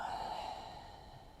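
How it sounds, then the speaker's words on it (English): A single soft exhale during yoga, a breathy airy sigh close to the ear that fades out gently over about a second. "Exhale."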